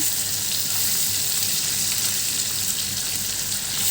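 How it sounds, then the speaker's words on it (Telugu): Fish crackle and sizzle steadily in hot oil in a home kitchen, a dense close frying hiss running unbroken without any voices. "చేపలన్నీ నేను అదే ఆయిల్లో నేను చేపలు వేసి ఫ్రై చేసుకుంటున్నాను"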